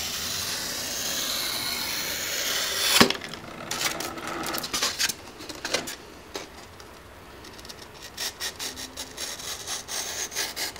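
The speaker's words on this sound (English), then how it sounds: "keeping our blade at a nice tight angle and dragging it through" Blade dragged through foam board to cut a single bevel on a model A-10 Warthog part, a steady scraping slice up close, then a series of short rasping strokes with no talking.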